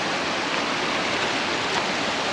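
A river flowing beside its bank, a steady, even rushing hiss at moderate level with no voices, continuous from start to end.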